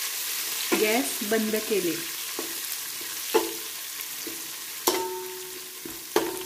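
Cumin seeds tempering in hot oil on a gas stove for jeera rice give a steady, close hiss of sizzling with a few soft clinks, while a voice speaks briefly over it.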